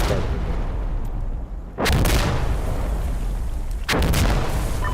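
Artillery barrage in Insurgency Sandstorm, two massive close explosions roughly two seconds apart, each a sudden booming blast over a constant roar of battle rumble.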